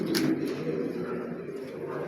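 Racer pigeons coo in a loft, soft repeated throaty coos close by, with a steady low background hum and no talking.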